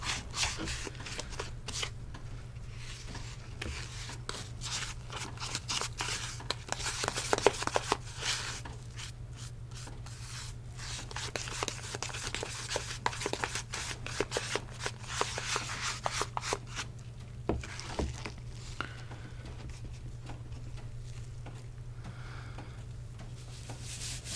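Thick hair bleach mixture being stirred and scraped in a bowl by gloved hands, a steady close-up rubbing and scraping that keeps going with soft clicks, over a low constant hum and no talking.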